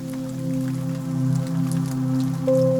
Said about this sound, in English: The rain has settled into a slow, steady rhythm, matching the pace of my thoughts.